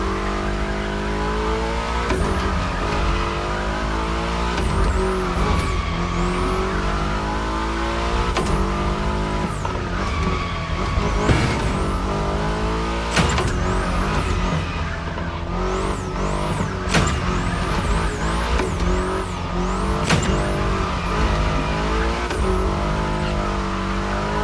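A car drifting in The Crew Motorfest, its engine revving steadily and rising and falling through gears while tires squeal in long repeated screeches through bends, loud and continuous throughout.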